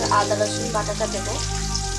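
Ginger garlic paste hits a pan of browned onions with a close, steady sizzle and crackle of frying, along with faint stirring, for two seconds.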